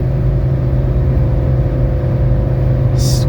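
A 1985 Mercedes 300D diesel engine pulls steadily after a transmission kick down, a loud, even droning hum heard from inside the car, with a brief high hiss near the end.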